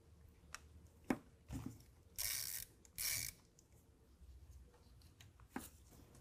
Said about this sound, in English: we're gonna loosen up this nut on the positive side